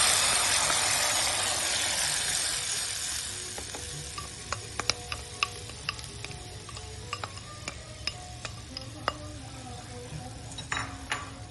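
Gravy masala frying in ghee on low flame for malai kofta, a soft steady sizzle with a spoon stirring and clinking against the pan in scattered sharp ticks.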